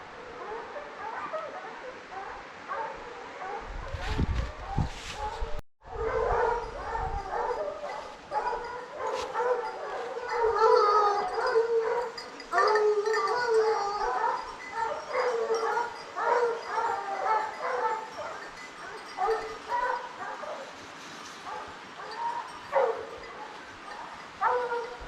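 Pack of hunting dogs baying and barking continuously during a hunt in Corrèze, a dense overlapping chorus at moderate distance with yips and howls, a brief louder thump early on.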